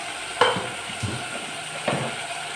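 Green chillies and tomatoes frying and being stirred in a pan for a tamarind-style drumstick curry, with soft sizzling throughout and two sharper stirring scrapes close by.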